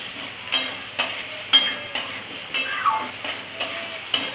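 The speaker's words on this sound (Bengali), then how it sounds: "গ্যাসের ফ্লেমটাকে জোর করে দেব, বাড়িয়ে দিয়ে পেঁয়াজটাকে ভেজে একটু কাঁচা গন্ধটা একটু ছাড়িয়ে নেব।" Onion frying in a pan over a high gas flame, a steady sizzle with regular stirring scrapes and clinks roughly every half second, close and fairly quiet.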